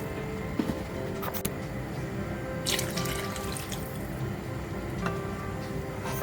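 Water pouring into a pot of masala rice for plain biryani, a steady splashing stream with a few clinks and drips nearby, no one speaking.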